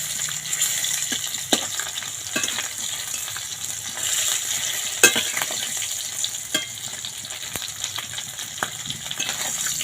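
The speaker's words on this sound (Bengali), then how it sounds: "মাছগুলো ভালো করে ভাজা হয়ে গেছে" Koi fish frying in a pan of oil, a continuous close bright sizzle with intermittent spatters and the scrape of a spatula turning the pieces, no voices.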